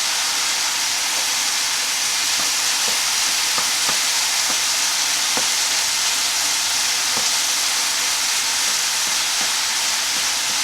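Ginger pork frying in a pan on high heat, a loud continuous sizzle and hiss with occasional faint pops, close and steady throughout.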